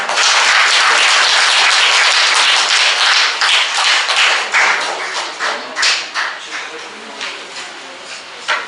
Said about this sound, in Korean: 다시 한번 저희 교수님께 큰 박수 한번 부탁드리겠습니다.